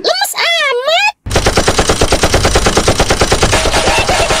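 Rapid, continuous machine-gun fire from an animated cartoon hammers on loud and close for several seconds, following a brief warbling cartoon sound effect and a short silence.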